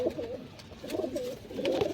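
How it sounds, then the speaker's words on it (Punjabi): Pigeons coo softly in a loft, giving three short rolling bursts of throaty cooing, fairly close and quiet, with no speech. "ਇੱਕ ਇਹ ਕਬੂਤਰੀ ਹੈ ਇਹਨੂੰ ਵੀ ਛੱਡਦੇ ਆ"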